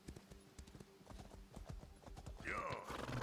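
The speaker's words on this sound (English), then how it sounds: "I love the infinite sprint on the horse." A horse gallops in the Elder Scrolls Online video game, its rapid hoofbeats pounding along steadily at moderate volume, with game sounds swelling near the end.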